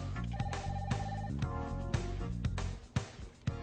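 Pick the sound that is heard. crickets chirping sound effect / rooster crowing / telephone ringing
telephone ringing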